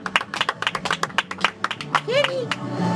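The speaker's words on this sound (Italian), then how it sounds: "facciamo anche un applauso al nostro cuoco Andrea che ha cucinato la pizza" A few people clap in a quick uneven rhythm for Andrea, the cook who made the pizza, close and fairly light, with voices talking and calling out over the claps.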